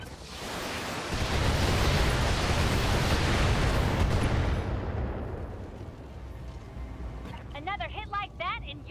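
Mech weapons firing in the Battletech video game, heard as a loud rumbling barrage of blasts and booms that swells for several seconds and then fades, with game speech coming in near the end.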